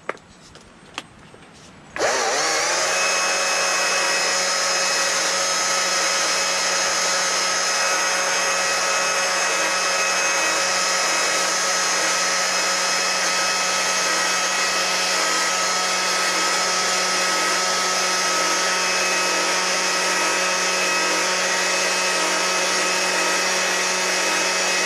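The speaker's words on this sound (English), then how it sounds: "we're gonna go ahead and use the chainsaw to try and do an expression" A chainsaw starts up after a brief quiet moment and then runs steadily at high, droning revs, carving wood continuously and close by.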